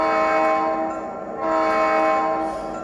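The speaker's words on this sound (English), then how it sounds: "We're going to blow our whistle signal." A model train horn sounds two loud sustained blasts as a direction-change whistle signal, separated by a short dip, with a steady harmonic tone.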